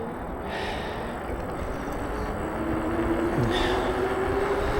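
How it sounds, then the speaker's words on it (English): A Velotric Nomad 2 fat tire e-bike accelerates on throttle alone, its motor giving a faint rising whine over steady wind and rolling noise that swells gradually through the clip. "let's try that again in throttle only mode"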